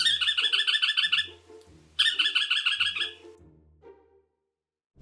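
A small songbird of Brazil's Atlantic Forest sings two loud, close, rapid trilled phrases, each a burst of sharp high notes, followed by a few quieter call notes before silence.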